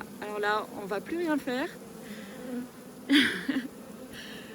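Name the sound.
honeybee buzzing near its swarm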